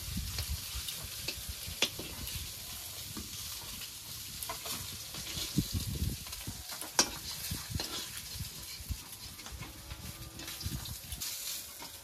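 Rohu fish pieces frying in a pan, giving a soft continuous sizzle with occasional clicks and scrapes of stirring and turning, fairly quiet and without speech.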